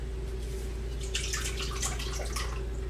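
Microwave-melted butter poured into a mixing bowl for snickerdoodle dough, a soft, faint trickle and spatter over a steady low room hum, with no one speaking.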